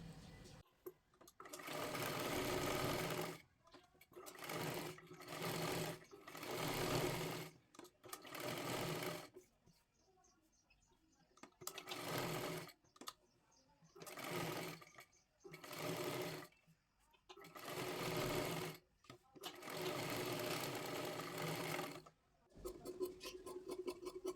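A sewing machine stitches boat neck blouse fabric in repeated bursts of steady whirring, each run a few seconds long with short pauses between, close and clear.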